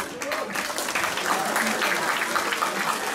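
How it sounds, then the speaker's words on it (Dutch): Audience applause for kickboxing fighters at a World of Kickboxing event, steady dense clapping throughout, fairly loud and close. "Geef een applaus eens bij de strijders."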